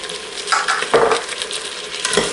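Rice sautéing in a pan, frying for a paella-style arroz con pollo y conejo, with steady close sizzling and a few scraping stirs of a utensil against the pan.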